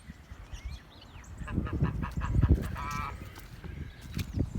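A goose on a farm makes agitated honks and hissing calls, several bursts rising and falling over a noisy outdoor background.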